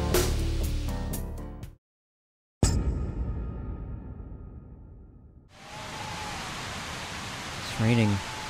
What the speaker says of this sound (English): Great. Another rainy day.